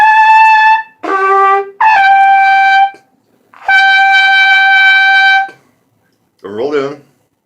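Several short brassy trumpet notes with a tight, strained tone from playing without a tongue arch, each held about a second with gaps between, then a brief rougher buzzing sound at the end.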